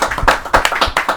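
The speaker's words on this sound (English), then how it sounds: "I'll clap for that." Hand clapping at close range during a recorded interview, about five sharp, evenly spaced claps in a little over a second, each a bright percussive slap standing alone without talk.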